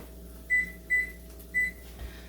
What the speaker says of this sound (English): I promised her I'd put it in the oven for her and time it